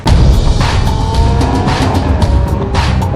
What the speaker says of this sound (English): So push the throttle and the pony car hesitates a bit, but the delay in power is minimal